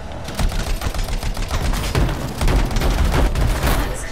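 A turret gun fires in rapid, continuous bursts in the sci-fi shooter Anthem, loud and close, with dense rattling shots that barely pause across four seconds.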